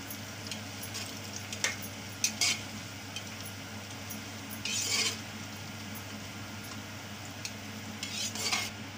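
Mutton korma spices with bay leaves and cumin being stirred in a pot, with soft scraping and faint sizzling over a steady kitchen hum, plus a few louder clinks of a utensil against metal.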